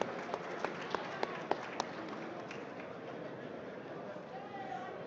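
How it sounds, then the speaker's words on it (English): An audience applauds at a ceremony marking 150 years of the Sargrenti War and Otumfuor Osei Tutu II's Silver Jubilee, with scattered claps standing out over a steady crowd hum that fades to a dull background after a couple of seconds. "A round of applause for the KNUST."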